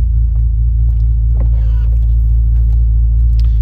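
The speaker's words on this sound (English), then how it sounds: "I do love this W12. Gorgeous engine." A 2005 Bentley Continental GT's W12 engine idles with a deep, steady low rumble throughout, close by, with faint higher clicks and a brief whine above it.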